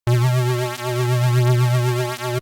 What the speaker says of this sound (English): you can hear we kind of have that vibrato effect happening on the lead synthesizer patch